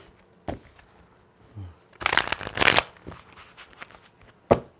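Tarot cards shuffled by hand in a pick-a-card reading, a close riffle burst in the middle framed by a few softer card slaps and taps, with no talking.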